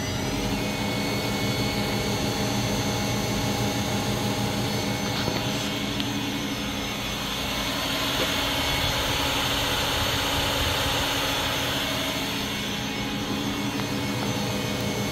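Miyano BND 42C5 CNC lathe from 1999 with its spindle spinning at 3,000 RPM, giving a steady, continuous high-pitched machine whine and hum that holds evenly throughout, close and fairly loud, with no talking.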